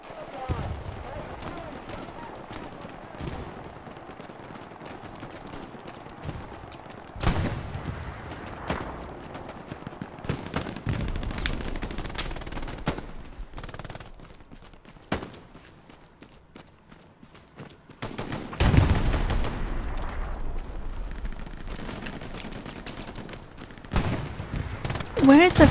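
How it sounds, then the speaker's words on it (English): Gunfire rings out in a Hell Let Loose battle: scattered shots and bursts at varying distance, some sharp and near, with footsteps and players talking over the fighting throughout. "Who the fuck is shooting at us here?"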